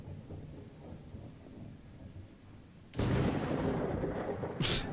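Thunder and rain outside: a quiet rain backdrop is broken by a loud rumbling roll of thunder that sustains, followed by a sharper crack near the end.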